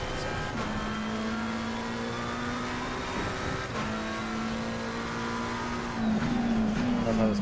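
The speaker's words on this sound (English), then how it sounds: "I love how this McLaren sounds." A McLaren 720S race car in Assetto Corsa Competizione holds a steady engine drone with brief dips between gear changes. A louder rising surge comes near the end, and there is no talk over it.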